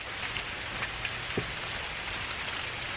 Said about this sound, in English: really starting to rain now.